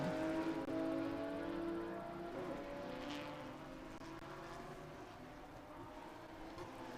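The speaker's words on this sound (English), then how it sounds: "Alfa Romeo GTV Group 8 B sedan car." An Alfa Romeo GTV Group 8 B sedan race car at the Mid-Ohio racetrack, its engine a faint distant drone that holds steady and slowly fades.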